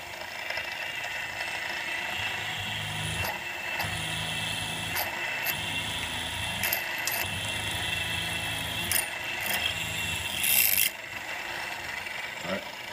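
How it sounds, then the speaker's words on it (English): A 1/4 inch pilot bit spinning at about 1200 RPM drills into copper in a garage shop, a steady grinding, rasping whir broken by several short bursts of scraping as the bit bites. "We'll put this on about 1200 RPMs or so. And this is a 1/4 inch pilot bit."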